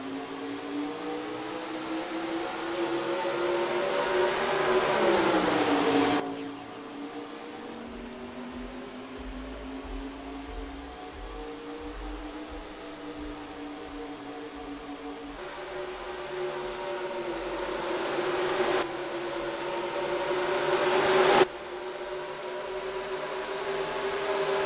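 Race cars run green-flag laps on a track at Boston, Massachusetts, a sustained engine drone that rises and falls in pitch, swelling and dropping away with abrupt shifts as cars pass.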